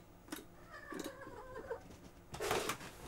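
A cat meows and trills in a few short rising murmurs, fairly close and moderate in volume, with scattered clicks and a louder burst near the end.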